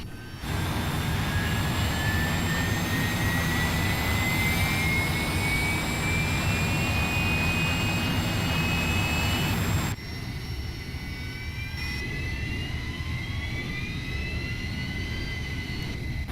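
A Harrier jet launching off an aircraft carrier in the Arma 3 game: a loud, sustained jet engine roar with rising whine tones, dropping abruptly in level partway through and then continuing more quietly with climbing pitch.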